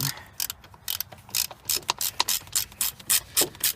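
A ratchet with a shallow socket snugs down plastic clutch cover bolts. It gives close, crisp bursts of rapid clicking in an uneven rhythm, with short pauses between strokes.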